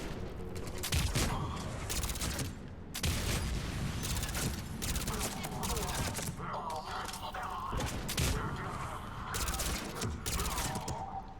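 Sustained turret and gunfire from a Mass Effect 3 firefight on PS3, with dense bursts of rapid shots and occasional booms running continuously at close, loud level, with brief gaps between volleys.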